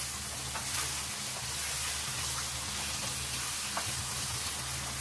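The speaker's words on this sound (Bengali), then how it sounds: "এখন মাছটাকে খুব সুন্দর করে আমি কষিয়ে দিচ্ছি" Large fish pieces sizzle steadily in a hot pan, making a continuous dense hiss with small crackles, close and even throughout, with no voices.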